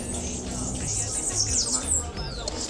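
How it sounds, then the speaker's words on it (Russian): Hummingbirds flit around garden feeders at Iguazu Falls, giving thin, high chirps and twitters over a steady murmur of crowd noise. "Здесь очень много колибри летает."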